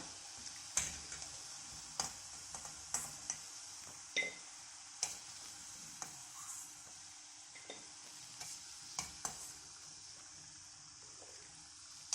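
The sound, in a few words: moothiravada frying in hot oil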